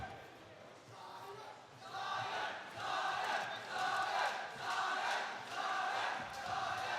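Partisan crowd at a UNITY Fighting Championship MMA bout between Michael White and Sayem Hoque, a dense roar of cheering and shouting that swells in waves and stays loud throughout the clip.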